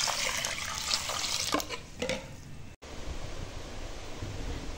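Water pours into a container to soak rice in a home kitchen, a splashing tap-like rush that runs for a couple of seconds, breaks briefly, then continues as a softer, steady trickle.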